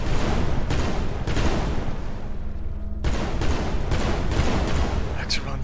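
Gunfire at a base in the video game Eximius: dense, sustained bursts of shooting and booms crackle continuously, briefly thinning before resuming at full force, with voices talking over the battle.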